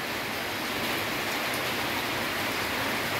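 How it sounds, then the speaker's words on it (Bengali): Steady rain falling in a dense, even pitter-patter across the whole stretch, moderately loud and continuous with no voices or other sounds. "রিমঝিম শব্দে বৃষ্টি এলো"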